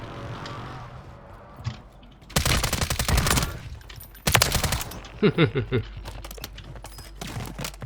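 Loud rapid bursts of automatic gunfire from a BAS-B rifle in Call of Duty Warzone come in two long volleys and then a few shorter shots, with a voice talking quietly between them.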